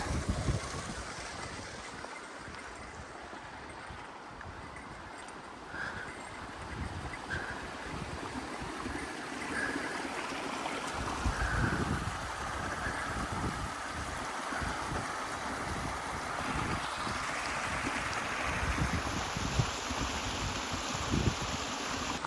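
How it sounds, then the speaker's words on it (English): Small mountain stream in Glacier National Park, Montana, a continuous broadband rush of flowing water with gusts of wind over it, steady and fairly close. "Every 20 to 30 feet, there's a new little stream."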